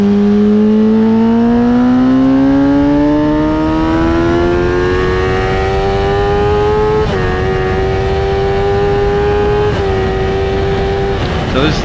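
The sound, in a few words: race car driving hot laps on raceway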